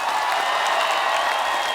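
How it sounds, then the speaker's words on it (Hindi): Audience applause welcoming Bollywood guests onto a comedy talk show stage, a dense, steady wash of clapping from a large studio crowd that stays loud and even throughout. "तो आप सबकी जोरदार तालियों के साथ please welcome the entertainers tour से one and only mister Akshay Kumar"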